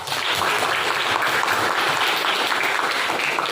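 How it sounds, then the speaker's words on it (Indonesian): A classroom of children applauds a glass during a lesson, steady dense clapping that fills the space, loud and continuous throughout with no talk over it. "Tepuk tangan dulu untuk gelas."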